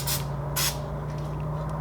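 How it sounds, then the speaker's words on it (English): Silicone lubricant sprayed onto XRP fittings in two short, close hissing bursts over a steady low hum, followed by faint handling rustles. "spray it with some silicone lubricant"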